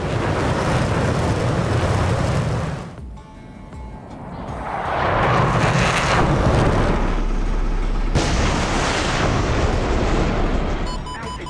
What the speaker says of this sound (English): That's another SAM launch.